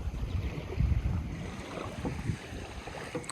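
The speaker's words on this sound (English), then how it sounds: "A little windy today." Wind gusts at a lakeshore during a kayak launch, producing a moderate rumbling buffet with light water lapping, uneven in strength, without speech.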